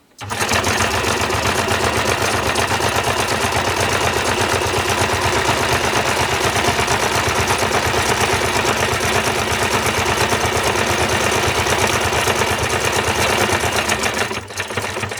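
A sewing machine runs continuously at close range, its needle chattering in a fast, steady rhythm as it stitches back and forth to secure the seam on a fabric dashboard, then stops near the end.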